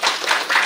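A brief burst of audience clapping at a Shivshakti program gathering in Biratnagar, Nepal: many hands applauding together in dense, even waves, moderately loud, with no voices over it.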